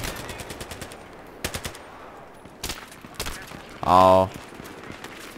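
Shotgun fire in the video game Battlefield 3, a handful of sharp blasts spread irregularly across the moment, then a heavier burst of rapid fire near the end, with short exclamations from a player.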